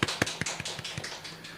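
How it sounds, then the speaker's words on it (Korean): Members of a Korean Baptist church youth group clap from their seats at a Sunday service to welcome new students, a sparse run of about eight distinct claps that start sharp and grow fainter, with no talking. "각자 앉은 자리에서 박수로 환영을 했으면 좋겠어요"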